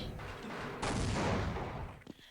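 A thrown grenade detonates in Half-Life, a broad explosive burst that swells suddenly and rumbles on for over a second before tapering off, loud and close with no talk over it.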